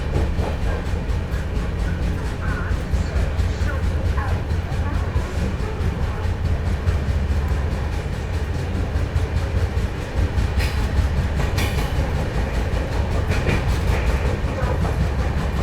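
An Indian Rail CR Rajdhani Express rumbles loudly and continuously from onboard while overtaking the Sevagram Superfast Express, with steady wheel and track noise and occasional rattles throughout.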